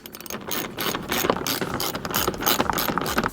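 A ratchet wrench clicks rapidly and steadily up close, tightening screws on a rear diffuser under a 2013 BMW 335i xDrive F30, with no talking.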